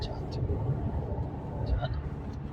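Low steady rumble of a car cruising along an empty NH 65 highway from Mumbai toward Solapur, continuous road and engine drone heard from inside, with faint voices in the cabin.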